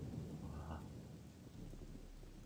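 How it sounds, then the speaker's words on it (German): Steady rain falls indoors in the video game Gothic with the Odyssee mod, a constant close patter with a soft low rumble and no speech. "Es regnet hier drin."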